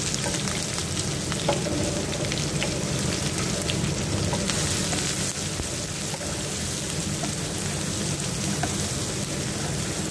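Onion sizzling in hot oil in a pan while cooking arroz caldo, a steady dense crackle and hiss with occasional stirring clicks, continuous and close, no voices.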